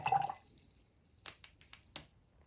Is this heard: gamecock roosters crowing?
no